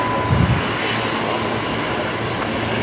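A Qantas Airbus A380 jet idles while lining up for departure at Brisbane Airport, giving a steady, broad engine rumble and hiss with a faint tonal whine throughout.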